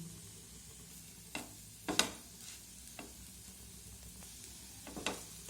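A snack of noodles and egg fries quietly in a pan with little oil, with faint soft sizzling broken by a few sharp clatters as it is turned over, and no talking.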